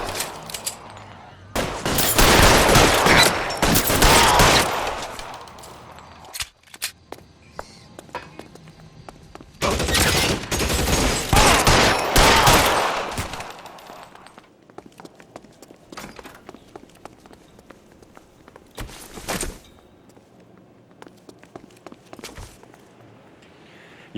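Loud bursts of gunfire in an L.A. Noire shootout, two long dense volleys with scattered single shots and quieter gaps between them, with a faint voice near the end.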